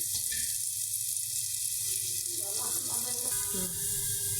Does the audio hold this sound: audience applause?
no